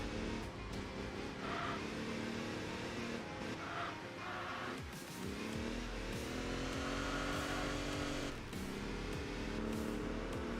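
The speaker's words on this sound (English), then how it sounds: "I love that kind of classic car sound." A Ruf car with a 3-liter inline six, driven in the Enthusia Professional Racing game, gives a steady, loud engine drone with a rising rev partway through and a brief dip before climbing again, with no talk over it.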